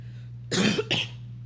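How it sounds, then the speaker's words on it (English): A single short cough, close and sharp, with two quick bursts, over a low steady hum. "If I cough again, I'm gonna take like a 5 minute break and make tea."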